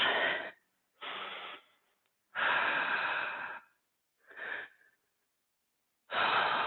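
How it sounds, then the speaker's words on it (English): Deep breaths in a yoga session: five slow, full inhales and exhales of varying length, close and clear with silent pauses between, no talking. "Take a couple deep breaths"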